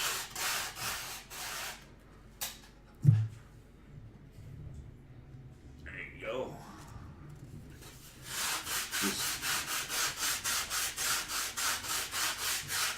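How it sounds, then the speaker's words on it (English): Rhythmic rasping strokes of a coarse 60-grit sanding pad on wood, starting and stopping, with a quieter stretch of handling noises before steady back-and-forth sanding resumes. "I got a 60 grit sanding pad, and I just kind of work my way around"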